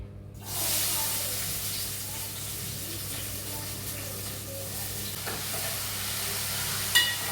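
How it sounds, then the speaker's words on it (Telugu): Curry gravy cooking in a pan for a Sunday kushka biryani meal, giving a steady, close sizzle and frying hiss throughout, with a brief clatter near the end and no talk. "ఇప్పుడైతే కర్రీ ప్రిపేర్ చేస్తున్నాను"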